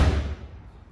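A car door shuts with a single low thump in a workshop, the sound of a supercharged 363 cubic inch Windsor street car fitted with a roll cage, followed by a brief fading decay.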